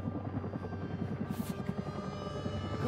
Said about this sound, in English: The helicopter turned around.